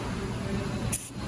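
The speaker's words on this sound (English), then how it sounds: "I'm gonna use brake clean and spray inside of these holes" Brake cleaner sprays in a short hissing burst into the intake ports of a sludged-up engine, a close, brief spurt that comes after a steady background hum.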